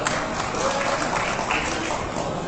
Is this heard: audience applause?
yes